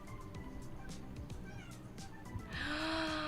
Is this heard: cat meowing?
yes